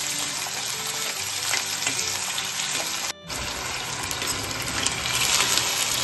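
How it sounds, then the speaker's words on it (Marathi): Potato pieces frying in hot oil for sabudana khichdi, a loud, dense, crackling sizzle that runs steadily with a brief cut in the middle. "आणि चांगला ब्राऊन होईपर्यंत फ्राय करायचा"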